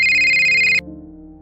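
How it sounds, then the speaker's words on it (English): A bright electronic ringtone trills loudly for under a second, then cuts off abruptly, leaving a faint low hum. "My phone rang."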